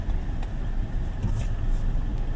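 A 2024 Kia Seltos with a turbocharged 1.4-litre engine and dual-clutch transmission, heard from inside the cabin during city driving: a steady low hum and road rumble, moderately loud, with no talking.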